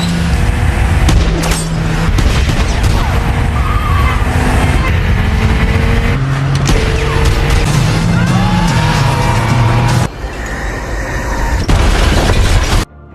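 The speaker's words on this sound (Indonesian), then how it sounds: "Belek kemudian mengejar mereka dan menabrakkan mobilnya ke mobil tersebut" A violent car chase in a gangster action film, with revving engines, skids and heavy crashing impacts as one car rams another, loud and dense with bursts of booms and sharp pops throughout.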